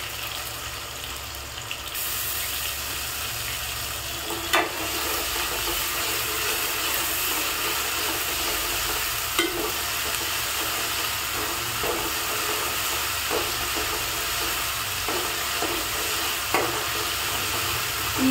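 Ginger garlic paste frying in a pan for a chicken dish, giving a loud, continuous close-up sizzle that hisses steadily throughout, with a few faint scrapes and taps of a spoon.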